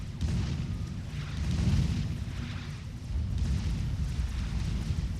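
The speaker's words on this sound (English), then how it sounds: "He's got the artillery" Artillery fire in the real-time strategy game Forged Alliance Forever on the Syrtis Major map, heavy low booms rumbling continuously in a dense barrage with steady loudness throughout.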